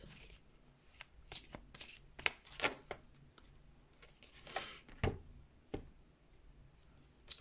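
Oracle cards shuffled by hand at close range, a quiet run of irregular soft riffles and sharp flicks and taps spread over several seconds.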